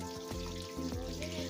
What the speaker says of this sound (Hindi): हमने एक एक पीस पकड़ के टैप के नीचे रख के